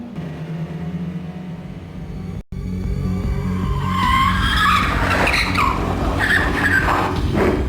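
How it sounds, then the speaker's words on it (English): Race cars in the Gran Turismo 2 video game roar and skid around a dirt track, a loud, continuous engine drone with squealing slides building over it. "The cars will be able to skid around"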